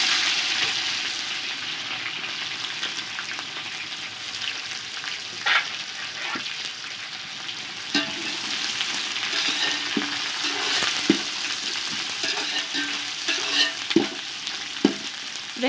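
Sliced onions frying in oil for beef biryani, a steady loud sizzle with occasional stirring scrapes and pops throughout.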